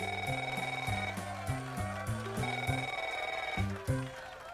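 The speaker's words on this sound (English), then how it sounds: "The phone will ring and each contestant will answer." A telephone rings in repeated electronic trilling bursts, several rings in a row, loud and close with no talk over it.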